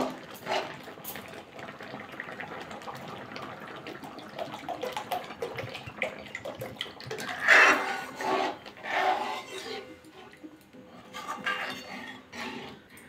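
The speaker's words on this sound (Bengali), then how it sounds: "এবার জল দিয়ে দেবো।" Water poured into a pot of partly cooked lentils for a Bengali wedding-style mixed vegetable dal, a steady splashing trickle with a few clinks of metal utensils, close and moderately loud, no talk.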